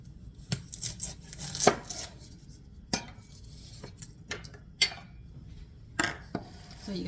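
Knife chopping an onion on a board for broccoli risotto, a handful of sharp, separate cuts spaced irregularly and heard close with no talk.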